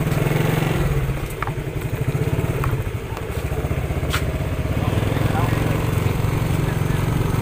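A motorcycle rides through Lapu-Lapu City, Cebu, days after Super Typhoon Odette. Its engine chugs with a loud, rhythmic pulse close by, mixed with occasional rattles and clicks, and a voice talks over the ride.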